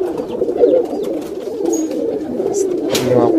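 Golden border pigeons coo at a loft in Vikroli, Mumbai, soft low throaty calls repeating close by under a voice and some background noise.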